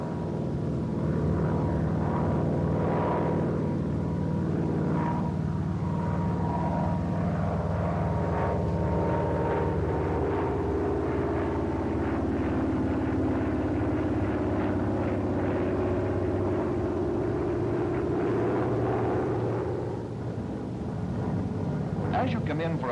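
A Grumman F6F Hellcat fighter pulls through an Immelman maneuver entered at 200 knots, its propeller engine droning steadily and loudly throughout, rising and sweeping in pitch, with a narrating voice running over the top.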